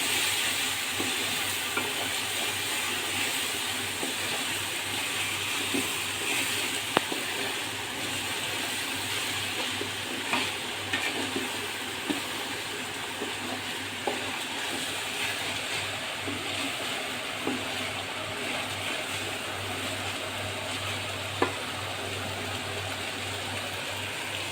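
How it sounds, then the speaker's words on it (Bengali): Chicken lightly frying in a pan for khichuri, a steady dense sizzle that runs unbroken throughout, close up, with occasional faint clicks of stirring. "এটাকে আমি এখন হালকা ভেজে নেব।"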